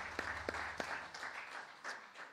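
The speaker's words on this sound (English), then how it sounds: "Man, give God a hand clap today," A church congregation claps hands together during worship, a dense wash of applause with a few distinct louder claps near the start, heard moderately from within the room.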